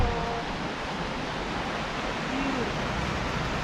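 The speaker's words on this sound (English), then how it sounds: "waterfall." Steady broadband rushing of a waterfall on Deckers Creek along a rail trail among big boulders, a constant wash of falling water heard alone at moderate level.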